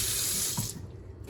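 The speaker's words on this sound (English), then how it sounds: "get that water back on. And just start slapping the edges of the sink with water." Tap water running and splashing into a kitchen sink, a close hissing rush that cuts off partway, leaving faint drips and splashes.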